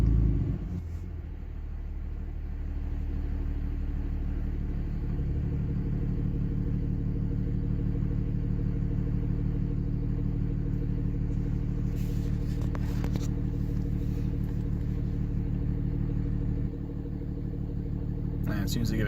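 A diesel engine with a Banshee VGT settles to a low, steady idle on a cold start once high idle is switched off, a close constant rumble with a faint rhythmic knock and a person talking over it.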